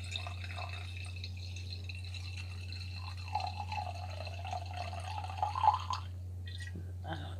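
Liquid poured into a glass during a casual eating-and-drinking session, a faint trickling pour with small splashes and drips over a steady low hum, no voices.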